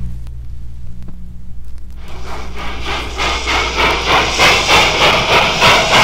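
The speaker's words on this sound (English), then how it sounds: "To illustrate, we hear again the whistle of engine number 300" A Southern Railway steam locomotive whistle, engine number 300, starts after about two seconds and holds as a loud, sustained hissing tone over a steady low engine rumble.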